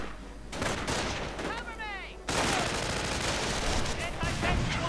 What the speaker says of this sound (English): Grenade going off there.